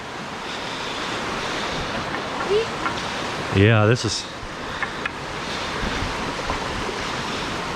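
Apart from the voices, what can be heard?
waterfall rushing water at Falling Water Falls, Chattanooga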